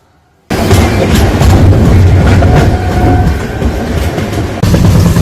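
The Kanchan Kanya Express runs loud and close in a continuous rumbling roar with faint rhythmic clatter of the carriages, starting abruptly after a short quiet moment and continuing unbroken.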